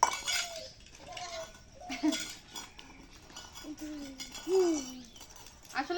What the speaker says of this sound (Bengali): দেখেন আমার ছাগলগুলো কেমন